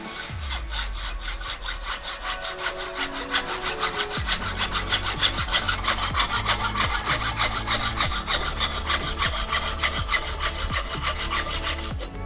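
A hand saw cuts through the carbon frame of a Guerciotti road bike in a workshop, with quick, even back-and-forth rasping strokes that speed up and grow louder after a slow start, close and alone.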